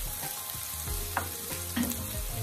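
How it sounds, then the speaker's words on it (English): Onions sautéing in a pan for a callaloo-stuffed roast fish, a steady close sizzle with a few light stirring scrapes, no voices. "Stir them properly, then make sure they saute properly."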